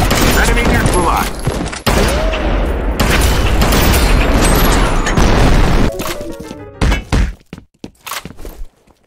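Loud, dense battle noise from the online shooter F.E.A.R. Combat: a heavy grenade blast and rapid gunfire run almost without pause, then break into sharp, separate bangs toward the end, with game voice callouts mixed in.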